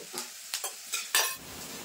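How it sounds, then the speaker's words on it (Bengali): Chopped onion and garlic frying in oil, a soft sizzle under a few close scrapes and taps of a utensil stirring in the pan. "তো এখন আমি এই পেঁয়াজ আর রসুনটা কিন্তু হালকা করে ভেজে নেবো, হালকা লাল লাল করে"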